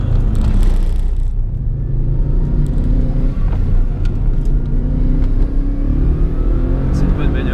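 A car engine revs and drones under load, with the gearbox straining, a steady loud rumble close up for several seconds, with someone talking over it.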